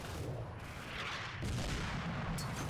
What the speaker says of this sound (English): it was the 45mm AT gun